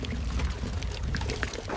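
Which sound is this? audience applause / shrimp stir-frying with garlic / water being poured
water being poured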